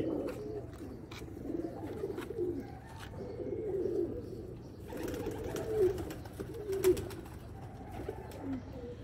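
Pigeons coo steadily for several seconds, low and throaty, with overlapping calls close by and a few faint chirps in the background.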